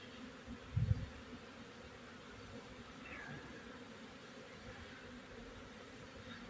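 Honey bees buzz around beehives thickly covered with bees, a steady faint outdoor hum with a brief louder rustle near the start.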